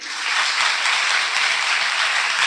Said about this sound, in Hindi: अभी युवा भाइयों के लिए जोरदार ताली बजाएं।